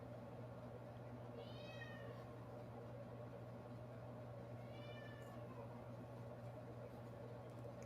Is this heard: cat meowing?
yes